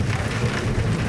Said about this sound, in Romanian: În județul Iași, vizat de un cod portocaliu de vreme rea, a căzut grindină, care a acoperit drumurile din mai multe comune.